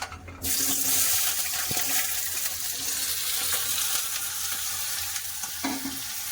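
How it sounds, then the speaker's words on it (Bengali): Potatoes go into hot oil in a pan, bursting into a loud, close sizzle that settles into a steady frying hiss with a couple of faint clinks, and no one speaks. "তেল গরম হয়ে গেছে আলু দিয়ে দেবো"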